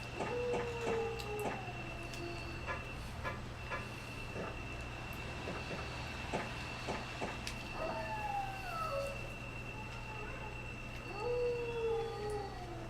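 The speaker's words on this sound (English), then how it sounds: "stock howling sound" Stock dog howling sound effect from the Resident Evil video game, several long rising and falling howls overlapping at a distance over a constant low hum and scattered sharp clicks.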